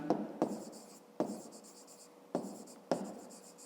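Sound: writing with a pen on paper

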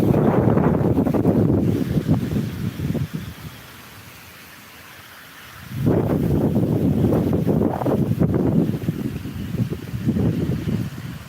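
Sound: strong wind blowing outdoors

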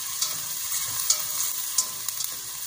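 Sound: garlic being lightly sautéed with onion for bulgur with tomato

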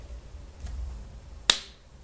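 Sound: hand clap

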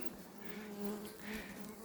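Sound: bees buzzing

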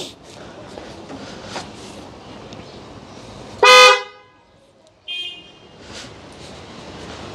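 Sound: Hyundai Creta car horns fitted on a Tata Nexon

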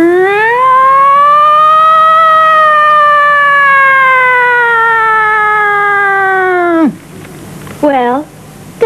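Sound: woman imitating a siren with her voice

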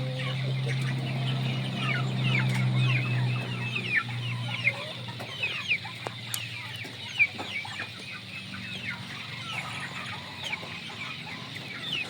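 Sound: Shamo rooster clucking

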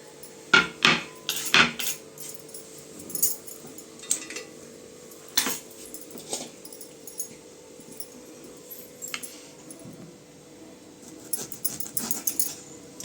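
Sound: lemons being cut with a knife

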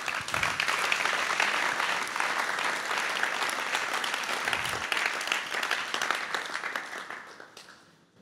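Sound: audience applause

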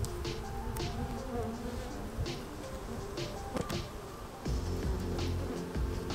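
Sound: honeybees buzzing while installing a nuc into a hive

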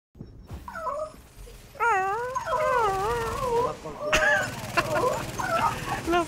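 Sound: dog whining and howling in the video game The Division

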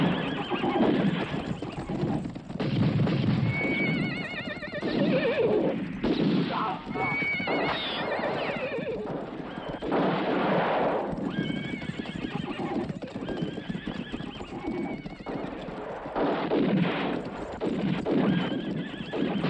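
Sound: horses neighing and hooves

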